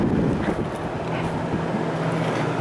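An early-1970s Sears Coldspot Viewsaver window air conditioner, a 6,000 BTU unit, runs on high fan with a steady, continuous broadband whoosh and low hum, fairly loud and unbroken, with no talking.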